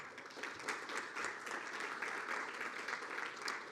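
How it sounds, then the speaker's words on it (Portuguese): Steady audience applause at the closing panel of a forum on mass litigation, a continuous even patter of many hands heard at moderate distance, with no talk over it. "Uma salva de palmas."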